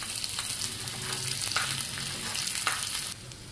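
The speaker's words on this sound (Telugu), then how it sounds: "కిస్మిస్ కొంచెం ఉబ్బేంత వరకు వేయించుకుంటే అన్నీ కూడా వేగిపోతాయి అన్నమాట." Cashews, raisins and coconut frying in a pan for a sabudana and mung dal kheer, giving a steady close sizzle with occasional stirring clicks before the sound drops off near the end.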